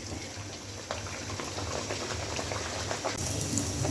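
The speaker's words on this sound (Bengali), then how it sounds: "তেল গরম হয়ে গেছে। এখন এখান থেকে একটা লুচি ছেড়ে দেই।" A luchi, a puffed flatbread, drops into hot oil in a pan and fries with a steady, close crackling sizzle that grows a little louder.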